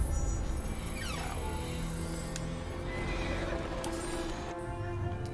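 A horse in the Assassin's Creed Syndicate video game neighs loudly among game ambience, its whinny rising and falling, with hoof clip-clops and steady background sound throughout.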